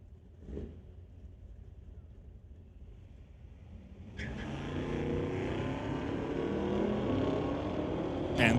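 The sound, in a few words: drag race cars: 2018 Camaro against 1970 Plymouth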